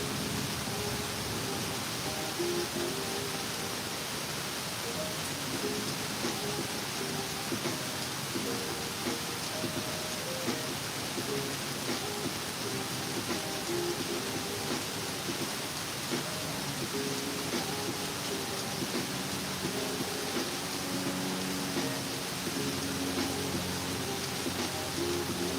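Steady outdoor rainfall, a broad, even hiss of drops that stays constant and moderately loud, with no voices heard.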